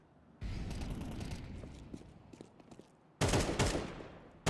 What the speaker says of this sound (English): just heard those shots flying past his ears